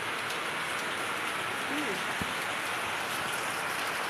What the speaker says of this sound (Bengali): ভীষণ জোর বৃষ্টি হচ্ছে, জল চলে আসছে।